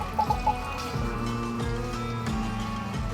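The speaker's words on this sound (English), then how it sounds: "Let's give it a pour." Maker's Mark bourbon is poured into a glass on a sailboat, starting with a few gurgling splashes and then a steady trickle filling the glass, close and clear.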